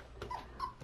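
Dog whimpering while exploring: two short, thin whines close by over a steady low background hum, soft and brief.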